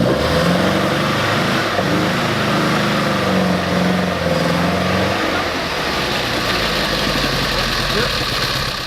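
An Alfa Romeo GT Junior engine runs close by, idling with a steady hum and light revving as the car is driven up onto a ramp; someone talks over it.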